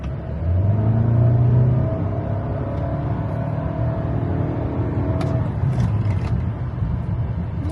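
A 2025 Toyota Camry accelerating in sport mode, with a steady, loud engine and road rumble inside the cabin and rising engine tones that climb through the first half before levelling off.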